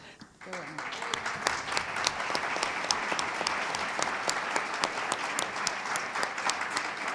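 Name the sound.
audience applause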